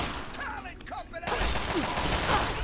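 Gunfire in the video game Fallout 3 erupts midway as a loud, sustained rattling burst of shots, after a quieter stretch with a brief voice-like murmur.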